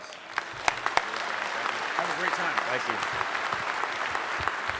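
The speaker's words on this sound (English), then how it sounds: "So let's give Jake a big round of applause." A conference audience at the DEF CON 24 hacker convention applauds a speaker, a dense sustained clatter of clapping with a few sharp claps standing out, while someone speaks briefly over it.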